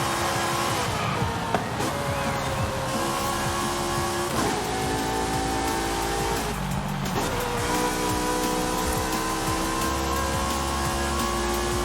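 A Vauxhall Falcon drives hard in the racing game Forza Horizon 5. The engine roars loudly and without pause, with rising revs, short gear-change dips and occasional tire squeal.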